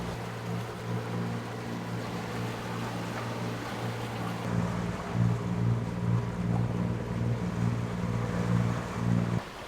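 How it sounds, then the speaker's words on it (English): A sailboat motoring on one engine hums with a steady low drone, joined midway by louder wind and water rush against the hull, continuous and close with no talking. "So motoring in one engine, It's okay, I think it's a good compromise."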